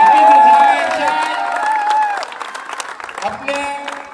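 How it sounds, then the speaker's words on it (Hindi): Applause from the crowd at a prize ceremony at a sports complex swells loudly at first, then fades into scattered clapping while an announcer speaks over it. "आप लोगों की भरपूर तालियों में"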